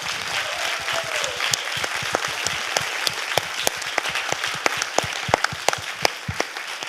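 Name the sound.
applause for panelists Gaylene and Natalie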